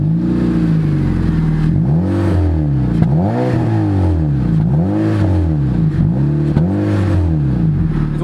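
A Honda Civic with a muffler-delete exhaust revs repeatedly up and down, about five loud, close swelling blips of a raspy engine note with brief dips between them.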